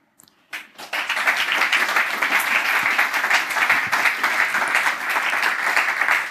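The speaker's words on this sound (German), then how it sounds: "danke schon mal für diesen Applaus" Audience applause at a closing presentation event in Ulm, a sudden dense wave of clapping from a large crowd that starts after a brief quiet moment and holds steady and loud throughout.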